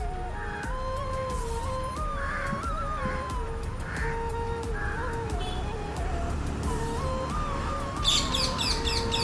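Young parrots chatter while feeding in a rambutan orchard, giving a steady stream of wavering, warbling calls with occasional sharper chirps, mid-distance, with a faint hum beneath.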